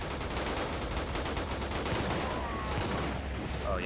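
Gunfire in the Quantum of Solace video game, a continuous dense rattle of shots without pauses, loud and close.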